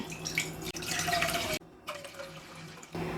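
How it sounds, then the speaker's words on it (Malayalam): Water pours from a cup into a pan for making rava chapati, giving a soft splashing and trickling stream that stops briefly and resumes, quiet and close with no talk. "ഇതിലേക്ക് നമുക്ക് 2 കപ്പ് വെള്ളം ഒഴിക്കാം"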